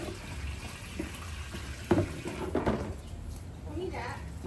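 Tap water runs into a sink or tub for a three-month-old French Bulldog puppy's bath, a faint, steady splashing under people talking, with a few louder splashes and knocks.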